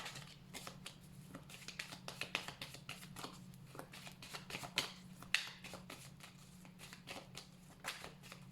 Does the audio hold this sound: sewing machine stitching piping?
no